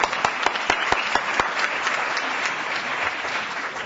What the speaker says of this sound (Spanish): un aplauso, muy bien